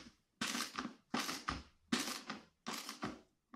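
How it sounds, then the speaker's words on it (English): A socket wrench tightens a 1/4 inch bolt clamping down a glued T-track, giving four separate bursts of creaking, ratcheting mechanical noise with short pauses between them, close and fairly loud. "I'm going to try and clamp this down and see how tight I can get"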